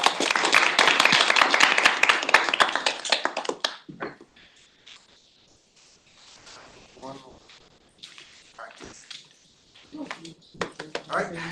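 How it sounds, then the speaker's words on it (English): Audience applause at a construction technology showcase event: a dense burst of clapping from a crowd lasting several seconds, then fading into scattered claps and voices talking. "Let's give our speakers and our sponsors, our team, a big round of applause."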